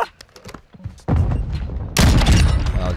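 A sniper rifle shot in a video game: a sudden loud blast cuts in after quieter game sounds, followed by a second, even louder crack and rumbling tail near the end.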